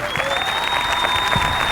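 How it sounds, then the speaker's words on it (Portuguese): Loud, close audience applause at a music video award ceremony, a dense wash of clapping with a faint sustained tone running beneath it. "Um salve de palmas bem forte."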